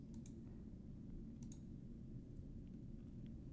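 Faint computer mouse clicks on OK buttons in Patran software, a couple of brief, quiet taps spaced apart over a steady low hum.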